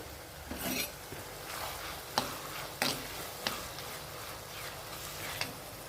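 Onions sautéing in a pan for an Indian chicken gravy, a steady low sizzle with occasional sharp clinks and scrapes of a spoon stirring, close and continuous without any talking.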